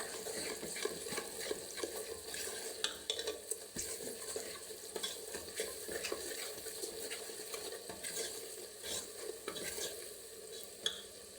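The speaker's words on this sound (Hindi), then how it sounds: "माशाल्लाह मसाला बहुत अच्छी तरह भून रहा है" Masala spices including red chilli, black pepper, turmeric, garam masala and salt frying in a pan for moong and masoor dal, a soft steady sizzle broken by frequent spoon scrapes and stirring clatter, close and fairly quiet, with no voices.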